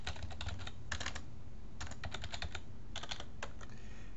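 Computer keyboard being typed on to enter a username, with quiet, rapid keystrokes in short bursts separated by brief pauses, close by and with no voices.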